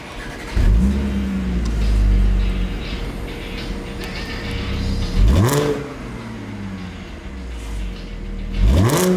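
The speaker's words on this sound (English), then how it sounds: "Do you mind starting it up for us real quick? Let's hear what she sounds like." A modded, supercharged Audi S4 with a V6 roars through three sharp revs, each rising whine climbing then falling back to a rumbling idle, loud and close.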